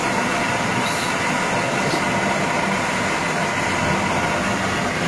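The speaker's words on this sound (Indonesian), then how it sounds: "Spindle-nya sudah berputar 400." A milling machine spindle spinning at 400 RPM gives a loud, steady mechanical hum and rumble with a broad whirring hiss, continuous and unchanging, close by with no talk.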